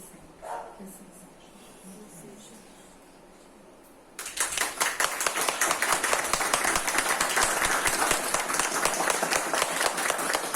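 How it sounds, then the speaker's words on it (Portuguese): Applause from an audience at a ceremony of a spiritist assistance house: a quiet room, then dense, loud clapping bursts in and continues steadily to the end. "Essas palmas dos amigos espirituais, dos fundadores da casa."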